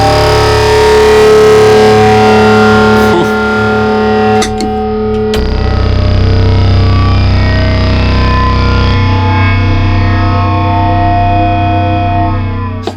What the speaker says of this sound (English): I believe this one has a flanger.